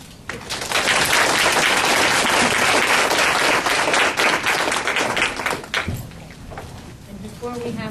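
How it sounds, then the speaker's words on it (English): A room full of people breaks into loud, dense applause for a guest speaker at a talk on national security surveillance, building quickly and holding strong before thinning out, with chair and movement noises and voices near the end. "let's just go ahead and give him a warm howdy and round of applause."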